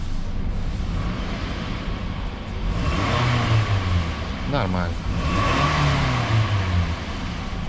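A Toyota Camry 2.4 engine with a knocking fault, running close by and revved twice, the pitch rising and falling over a steady idle, with a short spoken word in between.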